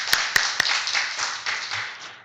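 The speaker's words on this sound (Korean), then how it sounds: "이럴 때 박수 한번 보내는 거예요" A church congregation gives a short round of applause during a Sunday sermon, with a few sharp claps at the start settling into a soft, scattered patter.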